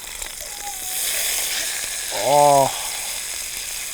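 Meat sizzles in a hot, greasy pan just after being flipped. Steady frying hiss runs throughout, with a brief exclamation near the start and a short tonal squeak partway through.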